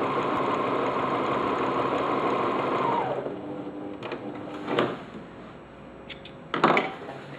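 A sewing machine stitches a seam in a continuous close whir for about three seconds, then stops, leaving a few light clicks and thumps of handling fabric.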